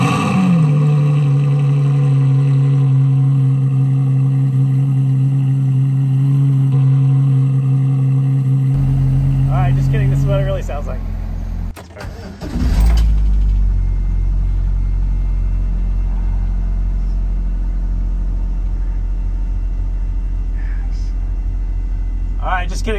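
A 1997 Lotus Elise S1 engine cranks and catches partway through, then settles into a steady, fairly loud low idle rumble, preceded by a constant droning hum.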